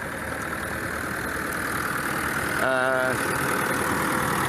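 A car engine idles with a steady, dense running hum throughout, close and fairly loud, with a brief tonal whir rising over it partway through.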